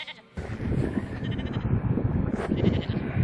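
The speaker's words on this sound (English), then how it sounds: "I love these sheep so much." A shepherd's flock of sheep bleats repeatedly and loudly at close range, the calls overlapping in a dense, continuous cluster after a brief quieter start.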